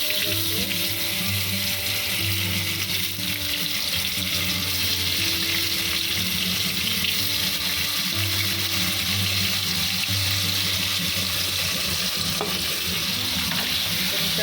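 Peas and paneer frying in hot oil, a steady, loud, close sizzle with crackling and occasional stirring, under a persistent low background hum and no talking.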